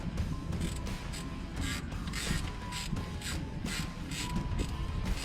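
A hand ratchet clicks in quick bursts while the rocker arms are tightened on an old 440 engine, faint and close, with mechanical creaks and clatter between the strokes.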